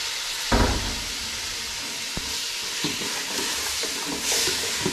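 A spoon stirs vegetables and spices in a hot pan, with a loud, steady sizzle of frying throughout, a few sharp knocks and scrapes of the utensil against the pan, and no talking.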